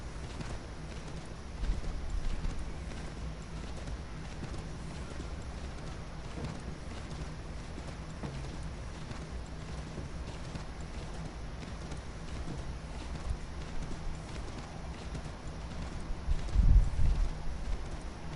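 A horse in Assassin's Creed 3 trots and gallops in steady clip-clop hoofbeats under faint ambient rustle, with a louder burst of hooves near the end and no speech.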